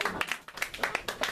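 Scattered audience clapping at a magic show, roughly a dozen uneven claps over a second or so from a small crowd, fairly soft.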